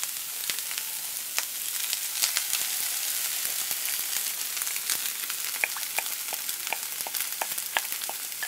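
Soy mince frying in a pan just after achiote is added, a steady close sizzle with scattered sharp pops and crackles throughout, no voices.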